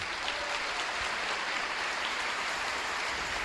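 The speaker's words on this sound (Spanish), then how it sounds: "Démosle un aplauso al Señor." A crowd applauds steadily, a dense even clatter of many hands clapping at close range without pause.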